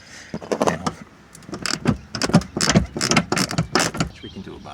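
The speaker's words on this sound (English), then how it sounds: "What I've got going on here is a 19mm deep socket on a 1/2-inch drive to get on there." Ratchet on a 1/2-inch drive with a 19mm deep socket loosening a bolt during a Ford Panther 5-speed swap, clicking in quick irregular bursts of sharp metallic ticks, close and fairly loud, with brief pauses between strokes.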